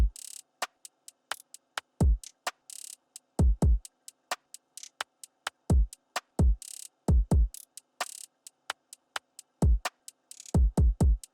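An R&B drum beat built in production software, with short crisp hi-hat ticks and rapid rolls over deep booming kick hits that land in small clusters, giving a bouncing groove with no voices.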